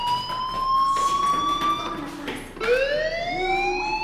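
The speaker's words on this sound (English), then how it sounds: "do you hear that fire alarm? That means you should be outside." A fire alarm sounds in the school setting of the video game Life is Strange, a loud steady electronic tone that drops in pitch and then restarts with a rising whoop partway through.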